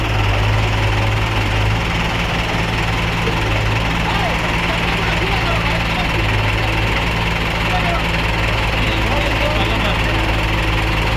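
A JCB excavator engine runs loud and close during a concrete mixer truck rescue, a continuous heavy rumble with a rattling edge. Voices are mixed in beneath it.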